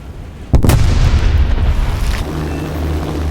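Bombs dropped from a bomber plane in a flight video game explode with one loud, close boom, followed by a sustained low rumble that slowly fades.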